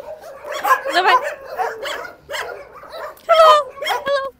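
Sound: shelter dogs barking

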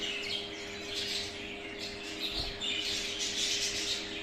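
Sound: show budgerigar chirping

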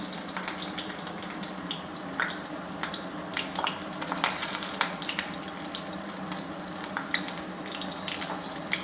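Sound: garlic and cumin sizzling in a hot kadhai

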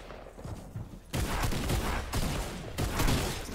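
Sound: tactical shotgun shots in a video game

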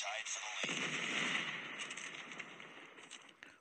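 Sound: gunfire in Call of Duty Mobile video game

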